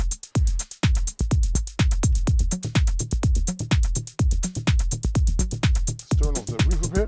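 Simple synth sequence for dance music: rapid, punchy plucked notes repeating in a steady driving rhythm with a deep bass thump under each hit, loud and continuous.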